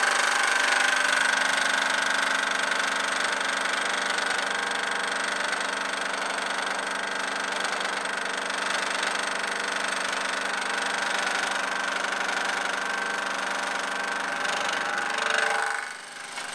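A milling machine takes a heavy roughing pass across a block, a steady loud grinding whine with constant tonal hum that holds evenly for most of the stretch, then drops off near the end.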